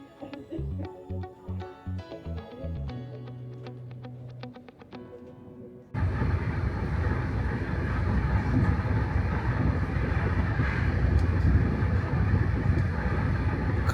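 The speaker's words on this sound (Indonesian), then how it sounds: "Kereta dipacu dengan kecepatan 130 km per jam." A regional train running at about 130 km/h through hilly northern Italy gives a loud, steady rumble of wheels and carriage noise that starts abruptly and continues without a break, heard alone after a short stretch of music.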